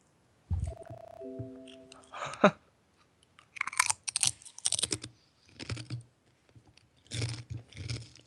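A computer keyboard being typed on in short close bursts of clicking keystrokes separated by pauses, with a brief electronic beep tone near the start.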